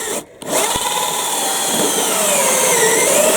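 A power drill fitted with a cutter extension bores a hole in the top of a plastic water butt. After a brief pause it gives a loud, steady whining grind that runs on continuously.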